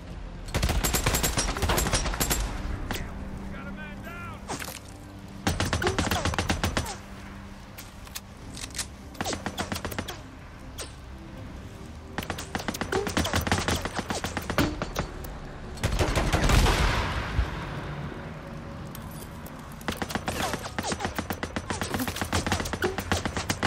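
Sniper and automatic gunfire in the video game Days Gone, with dense bursts of rapid shots and sharp single cracks recurring in clusters over a long stretch, separated by quieter lulls.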